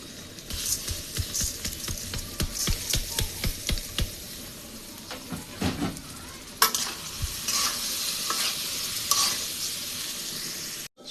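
Soaked polao rice and mung dal stir-fried in a pan over spiced masala, with steady sizzling under repeated scraping strokes of a spoon, close and fairly loud.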